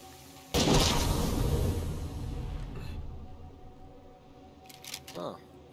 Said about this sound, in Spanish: habéis oído el disparo, ¿eh?